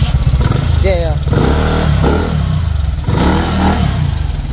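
A Honda Click 125 motorcycle engine, bored up to 160cc, revs loudly close by, its throaty rumble surging and dropping while people talk over it.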